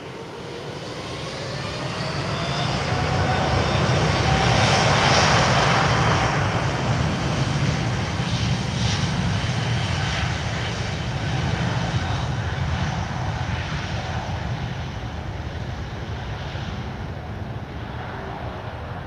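An Airbus A320neo jet at Lisbon Airport on a windy, cloudy evening gives a broad, rushing engine roar that swells and then slowly fades, sustained throughout with no voices.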